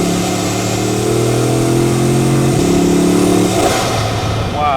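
An 8-litre W16 car engine revs hard with its fabric roof up, a loud steady drone that climbs in pitch, drops and rises again, then settles as the revs fall away near the end.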